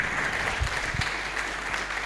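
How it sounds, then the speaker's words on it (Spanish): Church congregation giving a strong round of applause during a service, a brief, dense burst of many hands clapping at moderate volume with no speech over it. "Dele un fuerte aplauso entonces a Él."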